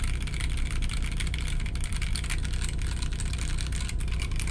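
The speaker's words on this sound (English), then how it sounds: "POM keycaps have always sounded great, and they do feel nice as well" Rapid, continuous keyboard typing on POM keycaps with dense clacky keystrokes, close and fairly loud, over a low steady hum.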